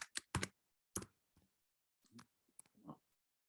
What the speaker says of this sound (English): We could do this typing thing.